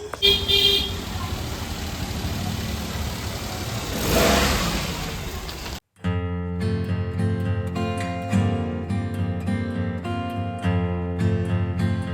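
A car engine runs nearby as the vehicle is brought out, a steady mid-pitched drone with rising revs that cuts off abruptly partway through, then gives way to other sound.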